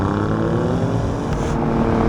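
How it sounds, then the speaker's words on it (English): Ferrari-derived twin-turbo V6 of an Alfa Romeo Giulia Quadrifoglio, a steady loud engine drone held at high revs for about two seconds, close by with no talk. "It's just got a Ferrari-derived twin-turbo V6, which sounds like this."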